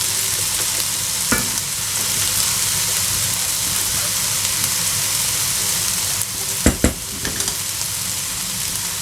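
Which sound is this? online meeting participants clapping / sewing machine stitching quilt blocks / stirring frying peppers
stirring frying peppers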